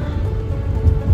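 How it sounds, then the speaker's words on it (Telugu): Steady rain in Sri Lanka hisses in a brief continuous wash of noise with a low rumble underneath, no voices. "వర్షం పడుతూనే ఉంది 3 days నుంచి."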